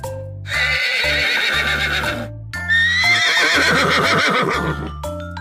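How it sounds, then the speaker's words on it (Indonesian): Two loud, close horse neighs in a row, each a long quavering whinny lasting a couple of seconds, set over a steady rhythmic backing beat with faint clip-clop of hooves and no speech. "Kuda"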